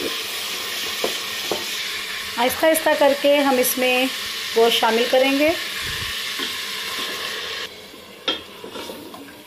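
Steady sizzle of garlic and beef frying in a karahi pan with occasional stirring scrapes, under a voice talking through most of the clip.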